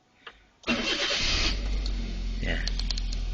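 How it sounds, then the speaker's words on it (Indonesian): An automatic car's engine cranks and catches just over half a second in, then settles into a steady, close idle after a brief faint sound at the start. "Kita hidupkan mobil"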